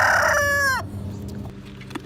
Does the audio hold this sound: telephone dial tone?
no